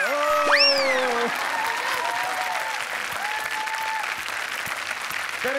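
A studio audience at a Marathi comedy show applauds, with a voice briefly heard at the start before the steady clapping continues at an even level.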